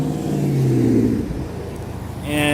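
A car engine revs on a street during a nighttime holiday walk in Henry County, Georgia, a steady mid-pitched drone that swells and eases over a couple of seconds, fairly close.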